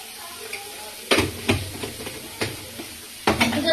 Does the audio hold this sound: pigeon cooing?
no